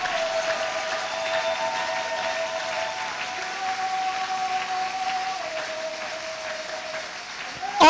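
Congregation applauding and cheering at a church seminar, a steady wash of clapping and crowd noise sustained throughout, loud and close, with a sustained tone running beneath.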